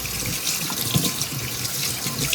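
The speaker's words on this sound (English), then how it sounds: "So now what we're gonna do is wash my hands off." Hands are washed under a running kitchen faucet, a steady close rush of water splashing into the sink for the whole stretch, with no talk.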